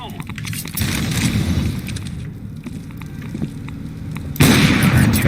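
Grenade explosion in Counter-Strike on the Train map, a sudden loud burst near the end after stretches of gameplay noise, footsteps and a voice talking throughout.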